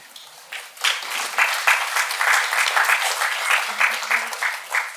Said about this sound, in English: With a round of applause, please let's welcome Amitav Ghosh and Julia Wheeler.